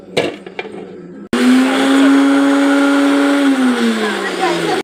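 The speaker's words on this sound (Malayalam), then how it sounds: "എന്നിട്ട് നമുക്ക് മിക്സിയിൽ നമുക്ക് അടയ്ക്കാം" Electric mixie blending ingredients with a little water, a loud steady motor whine with a rattling churn that starts abruptly after a few knocks, holds, then dips slightly in pitch before stopping.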